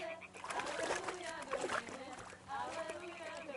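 A stone thrown into water lands with a splash and sloshing in the medieval game Kingdom Come Deliverance II, set against ongoing background sound with voices talking throughout.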